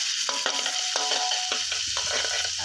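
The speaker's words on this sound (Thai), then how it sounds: "ก็จะมีเสียงชูชาชูชานะครับของไฟครับกระทะนะครับ" Steady loud sizzling from a hot wok stir-frying bamboo shoots, broken by repeated scraping stir strokes about every half second, with no voices.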